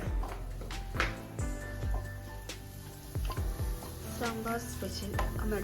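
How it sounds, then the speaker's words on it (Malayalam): Clanking of a metal spoon against a pan with light sizzling as spices are stirred and roasted for sambar, plus faint background voices. "സാമ്പാറിന് വറുത്തുകൊണ്ടിരിക്കുകയാണ്"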